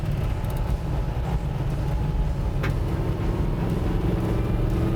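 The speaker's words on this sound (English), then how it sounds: "might get a little boomy in the back with the exhaust" A 1965 Shelby GT350 cruising at low revs, its exhaust a steady, deep low-pitched drone with a boomy rumble that holds evenly throughout, alone without talk.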